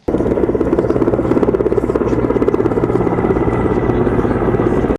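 A helicopter's steady, loud rotor thrum with a throbbing pulse, continuous and close, filling the whole stretch.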